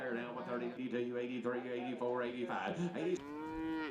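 Cattle penned at an Oklahoma livestock sale barn low repeatedly, a chorus of overlapping moos close by, ending in one long drawn-out call.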